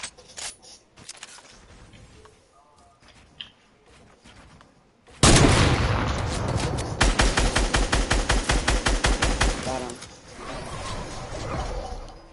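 In Fortnite, quiet scattered clicks and taps give way to a sudden burst of loud, rapid automatic gunfire. Evenly spaced shots hammer on for several seconds, then fade into softer action noise.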